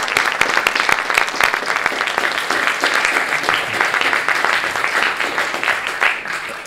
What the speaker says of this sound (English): Can we have a huge round of applause for the superhero that is Adie?